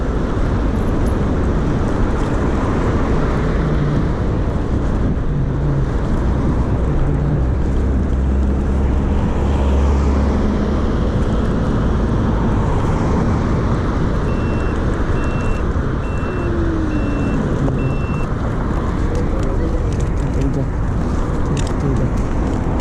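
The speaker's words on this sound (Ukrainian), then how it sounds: "Зі світлофора від'їду і в двори поїду." A car pulls away from a traffic light and turns into residential courtyards off Lvivske Highway in Khmelnytskyi. A steady, close rumble of engine and road noise runs continuously throughout.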